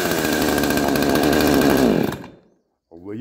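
A 60cc chainsaw powerhead, running without its guide bar or chain, roars loudly and steadily for about two seconds, then cuts out and fades to silence before a short, softer burst of sound.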